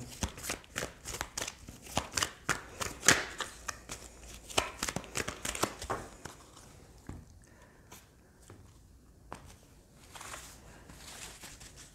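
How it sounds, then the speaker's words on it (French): Tarot cards being shuffled and handled, a close series of quick papery riffles and slaps in uneven bursts, busy at first and then thinning to sparse soft flicks, fairly quiet with no talking. "Alors, on va prendre d'autres cartes."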